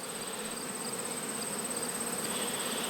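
Honey bees buzzing densely around queenless nucs bearding on the outside, a continuous droning hum with a steady high whine, close and even.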